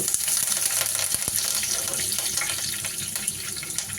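Mustard seeds and curry leaves fry in hot oil with a steady, watery sizzle that runs throughout, broken by a few sharp pops, and nobody speaks.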